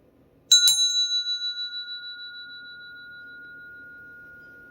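A single bright strike on a small bell rings out clearly in a quiet room and its pure, pulsing tone fades slowly over several seconds.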